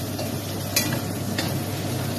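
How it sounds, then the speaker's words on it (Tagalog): Pork sautéing in a pan for a bottle gourd dish, stirred with a utensil: a steady close sizzle with a couple of brief scraping stirs over it, no talking. "haloy natin ng konti kasi para hindi dumikit sa ating lutuan ng karne"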